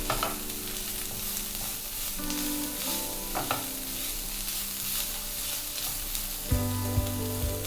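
Julienned carrots stir-fried in a pan for chicken fried rice give a steady, close sizzle with repeated scraping stir strokes, and a louder clatter of the utensil near the end; no one speaks.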